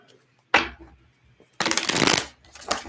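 A tarot deck shuffled by hand during a live reading: a short riffle burst, then a longer, louder rapid flutter of cards, and a final quick riffle, all close and crisp.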